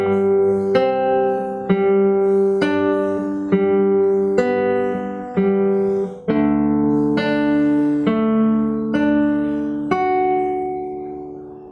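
Fingerstyle acoustic guitar plays a phrase: a steady run of plucked notes with ringing harmonics, close and clear, about a dozen attacks over the span with no talking.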